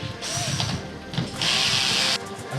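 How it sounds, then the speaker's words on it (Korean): A power drill drives a rusty screw in at a diagonal while building a shelf from scrap. Two short whirring bursts come first, then a longer, louder sustained spin before it stops. "대각선으로 해서 이렇게 녹슨 나사를 박도록 하겠습니다"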